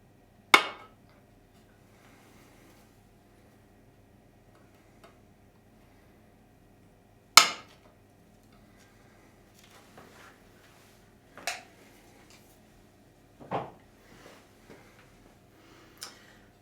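A light hammer taps frets into a Stratocaster fretboard with a few sharp, isolated knocks spaced several seconds apart, close and crisp over a quiet room, the later taps softer.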